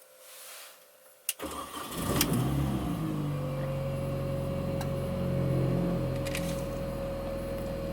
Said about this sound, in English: So let me start the car up.